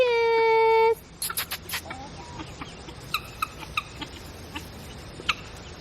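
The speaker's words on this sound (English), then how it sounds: "Our baby chickens are all getting big now." Young chickens, recently hatched, cluck and peep in short scattered calls around a yard, after a brief steady electronic tone at the start.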